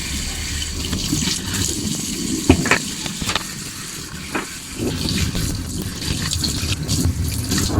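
Water runs steadily from a tap during hair washing with body and hair wash at a barber's sink, a continuous close splashing rush with brief louder splashes and no talk.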